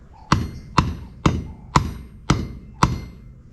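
Six evenly spaced hammer blows strike the back of a wooden handle to drive it deeper into a hammer head, each a sharp, close, loud knock with no talking.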